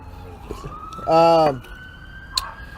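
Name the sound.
real police sirens outside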